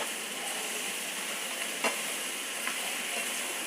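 Okra cooks in oil with salt and turmeric in a pan, giving a soft, even sizzle at low volume with a faint tap now and then.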